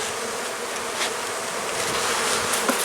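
A steady, dense buzz of many honey bees at a hive fills the air close by, continuous and fairly loud with no talking.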